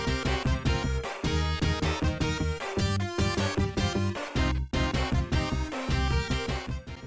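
Corrected options menu music from the Sega video game Sonic Spinball, a dense, loud electronic chiptune-style track with steady pounding bass and rhythmic repeating notes playing continuously without any talk.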